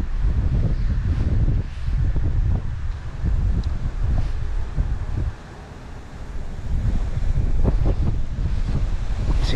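Strong wind buffets the microphone beside a flowing river during bank fishing, a loud rumbling roar in gusts with a brief lull midway and rushing water underneath.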